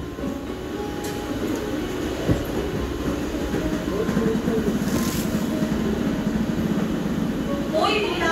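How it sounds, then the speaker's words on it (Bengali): A local train on a single-line route to Belur Math in Kolkata, heard from inside, rolls along the rails with a steady rumble and rhythmic wheel clatter, a faint squeal near the end, and faint voices in the background. "ফাঁকা ট্রেনে জঙ্গল সাফারি।"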